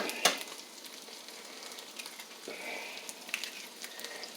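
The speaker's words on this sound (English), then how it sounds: "I'm going to put about 3 eggs in it." Eggs fry with vegetables in a pan, giving a faint, steady sizzle with small crackles and one sharper pop near the start.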